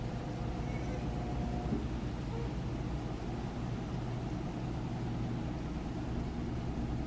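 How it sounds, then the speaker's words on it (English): A four-year-old Samsung HE front-loading washing machine on its final spin cycle, a steady low hum and whir that stays even and smooth throughout, heard at moderate distance. "If you can hear it there, it's spinning nice and fast."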